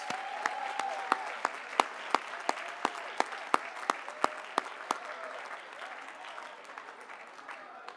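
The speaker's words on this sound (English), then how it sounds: "a round of applause to all our Beta Gamma Sigma inductees." Applause at a diploma and awards ceremony for Beta Gamma Sigma inductees: a modest audience claps, with one loud nearby pair of hands slapping in a slow regular beat over softer scattered clapping.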